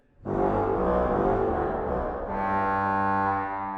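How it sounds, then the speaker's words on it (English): A deep, buzzy sustained tone from the 16-foot pedal reed stop of the pipe organ at Christ Church Cathedral, Oxford, droning loud and steady, then shifting to a slightly different low note. "all I could hear was the 16-foot reed of the pedal"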